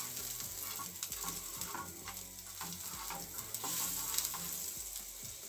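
A bar of butter melts in a hot frying pan for spinach with eggs, giving a faint, continuous sizzle broken by light scattered ticks and scrapes, no one speaking.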